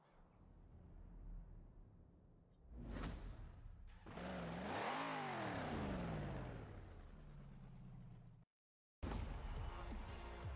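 Dodge Charger RT exhaust roaring in a racing video game, a loud engine note sweeping up and down in pitch as the car accelerates and passes, broken by a brief dropout.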